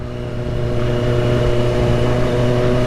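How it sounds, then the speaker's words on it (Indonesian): A loud, steady engine drone with a deep, throbbing exhaust note from a Kawasaki ZX25R motorcycle, held at a constant idle-like rumble close by. "Motor pelan tapi suaranya kenceng banget."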